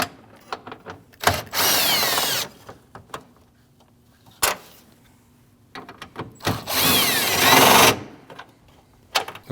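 Power tool driving out 10mm front bumper bolts on a Jeep Cherokee during grille shutter replacement, two loud sustained whirring bursts of a couple of seconds each with clicks and handling noises between them.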